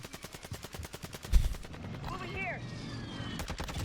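Gunfire in Warzone 2 as a player fires on an enemy: a rapid train of close automatic shots in the opening second and a half, followed by fainter game noise and a brief burst near the end.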